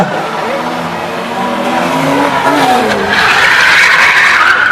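Monster trucks at a stunt show rev hard and skid, with loud close engine roar and tire squeal swelling to a sustained high screech, while an announcer's voice runs underneath.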